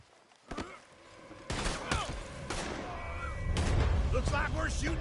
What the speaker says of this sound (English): Looks like we're shooting our way out of here first.